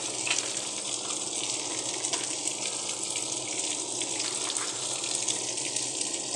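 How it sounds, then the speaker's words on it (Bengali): Hot water pours steadily into a cooking pot of fish in a home kitchen, a continuous splashing gush that holds the same moderate level throughout with no voices. "এখন আমি এই যে গরম জলটা দিয়ে দিচ্ছি"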